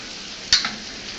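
Food sizzling in a hot frying pan, a steady soft hiss with one brief sharp crackle in the middle, close and alone without voices.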